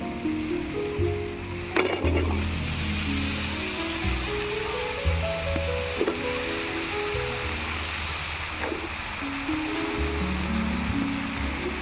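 Mixed vegetables frying in a pan give a steady, dense sizzle that runs throughout, close up, with a few brief clatters of a spoon stirring against the pan.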